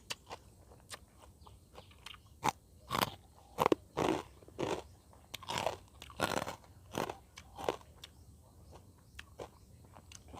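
Crunchy chewing of a Thai cucumber salad with boiled shrimp, heard up close as a steady series of crisp bites and crackling chews with short pauses between them, and no talking.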